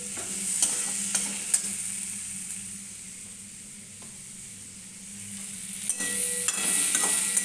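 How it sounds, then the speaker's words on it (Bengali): Okra with salt sizzles steadily in a hot pan as a spatula scrapes and stirs it, giving a continuous frying hiss marked by sharp, intermittent scraping clicks, with no voices. "লবণ দিয়ে এটা একটু ভালো মতন কষিয়ে নেব।"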